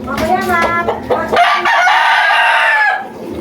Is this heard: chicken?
yes